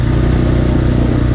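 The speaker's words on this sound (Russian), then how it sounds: "и заклинил мотор." A Kayo TT 125 dirt bike engine, in the moment it seizes, gives a loud, close, rough buzzing roar with a clattering edge. It holds steady through the short moment.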